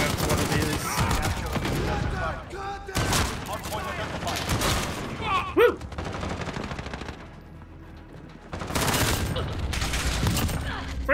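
A pink shotgun fired in a Modern War video game, with heavy bursts of gunfire in clusters, loud and close, amid other battle noise and voices talking.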